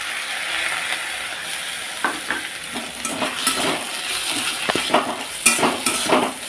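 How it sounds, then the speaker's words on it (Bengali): Lata fish with ginger paste frying in a pan, a steady sizzle with scattered scrapes and stirring clinks of a utensil against the pan, close and alone without talk. "আদা বাটাটাকে দিয়েও বেশ সুন্দর করে আমি এটাকে অ্যাডজাস্টমেন্ট করে নেব, মানে আরও 2-3 মিনিট ভেজে নেব।"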